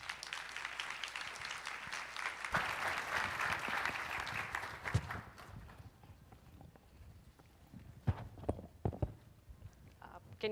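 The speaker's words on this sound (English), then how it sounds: "Please greet them with a big applause." Applause from an audience greeting presenters at a conference talk on visual analytics, a dense wash of clapping for about two and a half seconds that thins out into scattered claps and shuffling noise.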